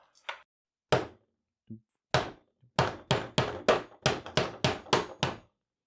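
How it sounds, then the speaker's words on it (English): Sharp hammer blows land close by, a few spaced strikes followed by a quicker run of about ten evenly paced hits. "We're at hammer stage again. Haha, I love my hammer."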